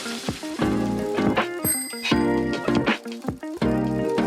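Bells ring out among cyclists on the cobbled streets of Oudenaarde, Flanders, as repeated bright tones layer over one another in a steady, busy chime with no voices.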